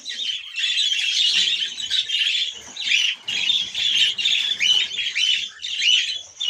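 Cockatiels being fed a homemade seed mix squawk loudly and continuously, a dense, harsh chorus of overlapping calls with only brief gaps, close by and without talk.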